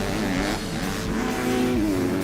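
Maxime Renault's race car on a flying lap howls past at high revs, its engine note holding a steady, loud, slightly shifting pitch through the whole stretch, with no talk.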